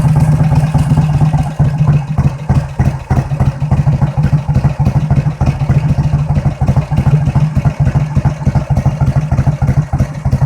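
A Vincent Black Shadow motorcycle engine idles while warming up, a loud, close, rapid and even thumping beat with mechanical clatter running steadily throughout, no speech over it.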